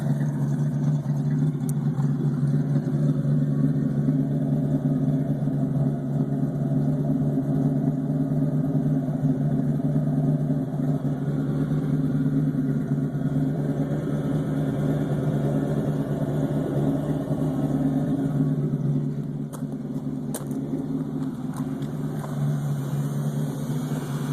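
A steady, throaty V8 engine rumble from a 1973 Ford Mustang 351C-2V with an aftermarket exhaust idles continuously with deep low-end tone, close and loud, with no talking over it.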